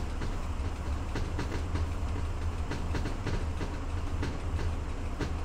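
A train in the game Train Driver 2, a mail train, pulls out of a station with a steady rumbling roll and regular clickety-clack over the rail joints, moderately loud and continuous, with no talking.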